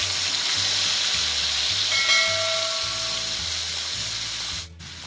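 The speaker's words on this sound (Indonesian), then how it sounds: "Tu kita tumis ke bahan yang kita kisar tadi." A blended paste of garlic, chili and onion sautés in oil, producing a loud, continuous, close sizzle with faint low hum beneath and a brief tonal ring partway through.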